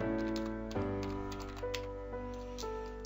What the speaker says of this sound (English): To do that, we just type list partition